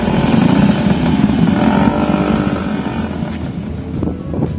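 Several motorcycles at the Koh Samui Bike Week 2022 gathering rumble loudly and continuously up close, a dense mix of engine roar with wind buffeting the microphone, easing slightly toward the end.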